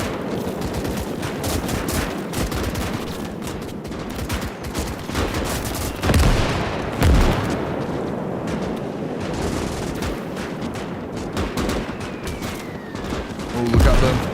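Machine gun fire and battle gunfire in the WWII strategy game Call to Arms: Gates of Hell, with dense rattling bursts and heavier booming shots at intervals, under a steady din of combat noise.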